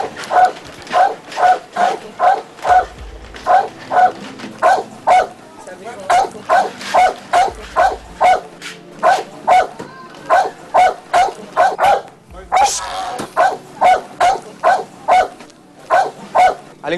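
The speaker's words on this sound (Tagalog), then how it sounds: "Wala ho bang pahinga itong aso nyo? Kanina pa ho tahol ng tahol eh." A dog barks over and over in loud, sharp bursts at a fairly regular pace, close by, with only brief gaps between barks.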